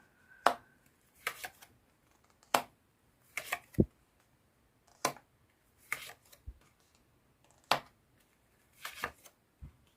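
Tarot cards are shuffled and drawn in short, crisp bursts, about a dozen quiet riffles and snaps spaced irregularly over near silence.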